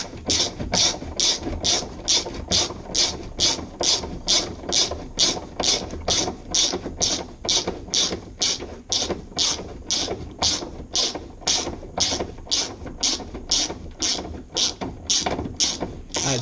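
A hand ratchet turns out a bolt while a car's faulty fuel pump and tank are being removed, its crisp metallic clicking in a steady, even rhythm of quick bursts repeating for the whole stretch, close and alone.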